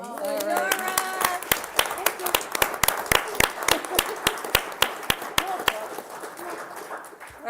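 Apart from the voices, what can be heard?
round of applause at a council meeting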